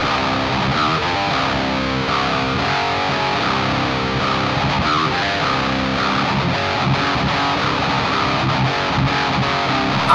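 Electric guitar played through the KRANK KRANKENSTEIN amp simulator plugin, with a TSE 808 overdrive in front: heavily distorted, loud, continuous riffing with chugging low notes and a thick, saturated tone throughout, no talking.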